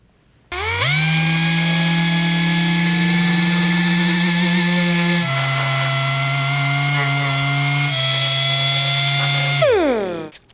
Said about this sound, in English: we're just going to remove this area and sand it flat and fare it into the rest of the blade.